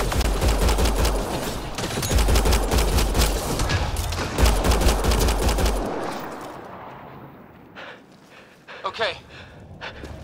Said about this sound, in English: Naya, shoot it!